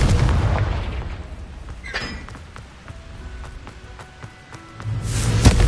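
Confringo spell blasts in Hogwarts Legacy on PS5 Pro: a heavy booming explosion opens, another sharp burst hits midway, and a fresh rumbling blast swells at the end, all close and loud.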